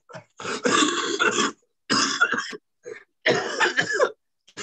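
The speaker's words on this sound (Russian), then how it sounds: "Видите, вот к вечеру расходится кашель, да, извините." An adult coughs hard in three close, harsh bursts, each a rapid run of chesty hacks separated by short pauses, loud and near with no speech.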